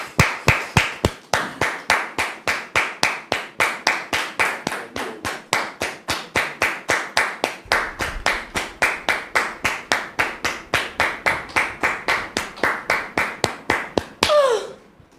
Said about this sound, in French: Merci de recevoir David ici maintenant sous vos applaudissements.